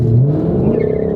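A Shelby GT500 with a dual-clutch automatic launches hard, its engine note climbing in pitch as it accelerates, loud and close with a rising whine.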